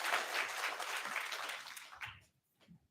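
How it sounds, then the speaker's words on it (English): An audience at a mayoral candidate forum claps for the candidates. The applause is brief and fairly quiet, holding for about two seconds before thinning out into a few scattered final claps. "You can applaud now."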